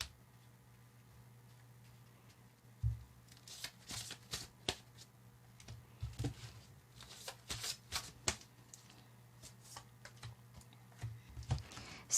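Tarot cards being shuffled by hand, a quiet series of crisp riffling and tapping bursts in irregular rhythm, close and alone against a faint low hum.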